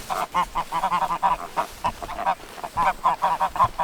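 Geese and ducks honking repeatedly in a garden flock, a dense run of loud, close calls in quick bursts with brief pauses.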